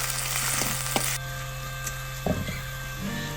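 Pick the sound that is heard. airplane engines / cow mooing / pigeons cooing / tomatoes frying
tomatoes frying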